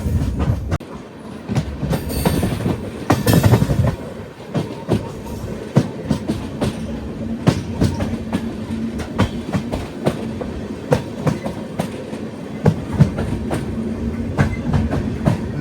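Pinakini Superfast Express passenger train running between Chennai Central and Vijayawada, a steady close rumble from inside with continuous clickety-clack wheel beats and occasional sharper rattles.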